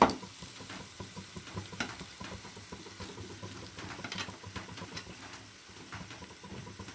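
Chicken and ginger sizzle in a hot pan while being stirred, a steady crackling fry broken by the scrape of a spoon and occasional louder spits, close and alone without talk.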